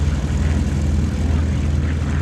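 A Hawker Hurricane, a single-engine monoplane fighter, flies at Sywell Airshow 2024. Its propeller engine gives a loud, steady, low droning roar throughout.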